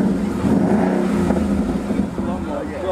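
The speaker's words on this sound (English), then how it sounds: "Foot on the brake, start it up. Give a little rev." A car won as a prize is started and revved, giving a loud, close, steady engine roar that continuous voices partly cover.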